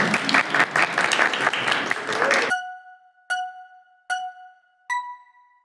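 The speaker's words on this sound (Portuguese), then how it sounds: "Palmas para Cássio ali" A live audience claps loudly for about two and a half seconds at a debate event, then the applause cuts off and a bright electronic chime rings out three times alone in the quiet.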